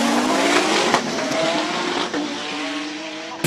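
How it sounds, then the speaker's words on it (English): Toyota MR2 Super GT race car sits on the start line of a hill-climb, its engine droning steadily with rising and falling pitch, a few sharp clicks and a faint squeal over the top. "Peter Zili is on the start line with the Toyota MR2 Super GT."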